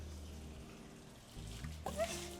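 Water poured onto a freshly repotted scented geranium, a soft trickle and splash building near the end after a quieter stretch, close and fairly faint.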